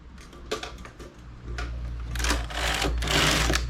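A domestic knitting machine carriage sweeps across a row of 2x2 rib, a close mechanical whirring and clattering that builds in loudness toward the end, with no voice over it.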